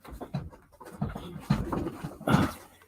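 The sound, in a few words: small dog panting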